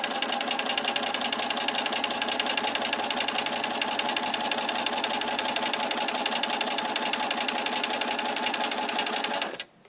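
A sewing machine stitches pinned fabric under the presser foot with a steady, fast, close mechanical whirring hum that runs without a break and stops abruptly at the end.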